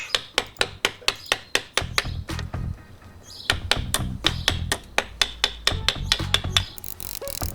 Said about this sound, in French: Un petit coup de ciseau à bois pour égaliser le fond de mon encoche.